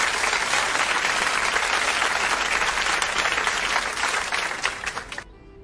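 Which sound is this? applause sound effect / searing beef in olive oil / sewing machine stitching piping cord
applause sound effect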